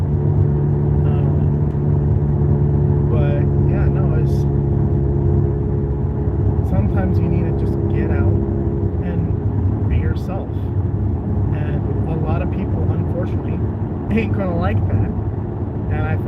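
Steady engine drone and road rumble fill the cabin of a moving car through a spotty area, a constant low hum running the whole time beneath continuous talking.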